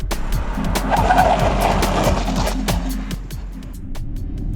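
A 2021 Audi e-tron electric SUV weighing 2.5 tons brakes hard with a rapid series of rhythmic tire chirps and squeals over steady road noise, close and fairly loud.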